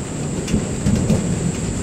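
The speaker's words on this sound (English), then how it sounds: "Gonna be a tropical storm." A tropical thunderstorm pours steady, dense rain with low rumbling thunder beneath, a continuous loud wash of noise with no voices.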